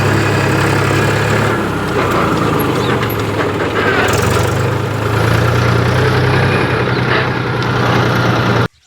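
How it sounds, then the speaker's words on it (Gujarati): A tractor engine runs steadily as the tractor is driven inside, a loud, low, continuous chugging drone heard up close that cuts off abruptly at the end. "હવે અંદર મુકાવીએ આપણે ટ્રેક્ટર."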